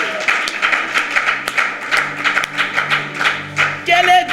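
A church congregation at a French-language prayer gathering claims in steady rhythmic clapping to acclaim the king of kings, many hands in time, with voices and a brief swell near the end.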